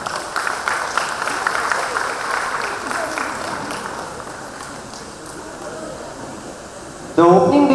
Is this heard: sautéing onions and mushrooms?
no